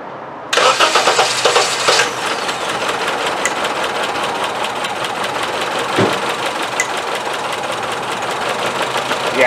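A Honda Civic engine idles with a misfire, firing on only two cylinders, producing a loud, uneven, lumpy running sound that starts abruptly and continues steadily with rhythmic stumbling throughout.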